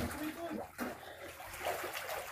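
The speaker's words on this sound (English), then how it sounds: "Lumalabas yung tubig sa bato." Sulfur spring water flows out of rock at Wilayat Bidbid, a soft, steady trickle and splash running close by throughout, with people talking over it.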